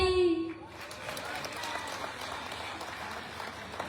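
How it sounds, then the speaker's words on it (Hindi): An audience at a live Krishna devotional gathering claps together in steady, dense applause that follows a brief sung or called-out voice, continuing evenly at moderate loudness. "बजा दो ताली।"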